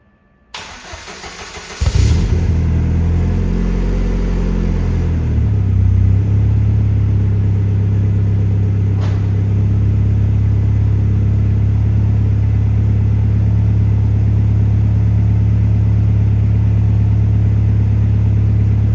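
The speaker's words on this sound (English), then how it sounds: "what I'm going to do now is get this Cosy started" Ford Escort RS Cosworth engine cranks briefly and fires up, then settles into a steady, loud, low idle rumble that continues alone without talk.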